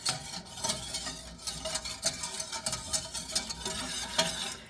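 A spoon scrapes and swirls through a thin, watery béchamel sauce in a pan, giving soft, irregular, fairly quiet scraping strokes that repeat steadily throughout.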